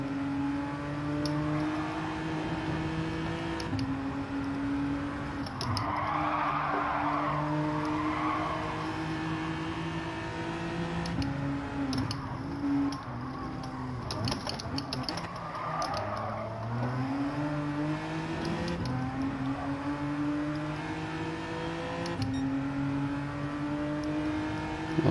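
Race cars in Gran Turismo 7 drive side by side, a steady engine drone with shifting pitch as they rev and accelerate, running continuously at moderate loudness with no talk.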